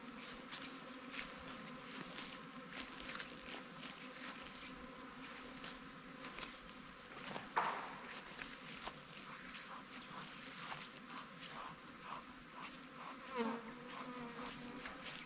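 A honeybee swarm buzzes around a hive box outdoors, a dense, continuous droning hum of many bees with individual insects passing close now and then, fairly faint and steady throughout.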